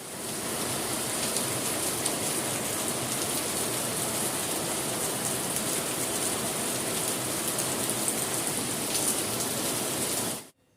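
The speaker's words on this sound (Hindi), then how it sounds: "हालांकि बारिश थोड़ी देर ही आई थी, परंतु पानी बहने जितनी बारिश गिरी थी।" Steady heavy rain falling in Nathdwara, a dense continuous hiss of drops hitting surfaces with running water, close and unbroken for about ten seconds before it cuts off; no voices.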